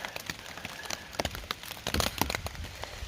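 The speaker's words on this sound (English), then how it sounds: "I don't think it's actually raining that hard anymore" Rain patters on a taut tent fabric, a dense irregular crackle of drops close overhead, fairly soft and continuous without any talking.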